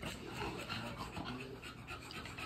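A breeding dog pants steadily and rapidly at close range, a continuous breathy rasp throughout with no talking.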